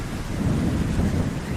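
Steady rain with low rumbling, thunderstorm-like noise in a cartoon scene, continuous and fairly loud throughout with no talking.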